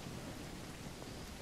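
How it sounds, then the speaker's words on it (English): Rain falls at night in the survival video game No One Survived, a steady soft wash of noise with low rumbling underneath, faint and unbroken. "It's raining and it's overcast."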